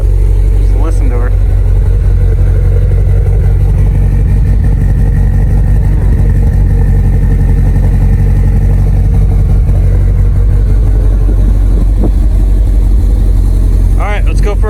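A freshly built Subaru STI engine of about 800 horsepower runs loud and close outdoors, a steady deep rumble with a faint speaking voice occasionally over it.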